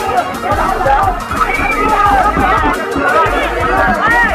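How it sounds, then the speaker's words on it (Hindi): Dense crowd chatter at a busy outdoor desi swimming pool in Muradnagar, Ghaziabad, with many overlapping voices and splashy bustle, continuous and fairly loud throughout. "काफी भीड़ लगी हुई है भाई"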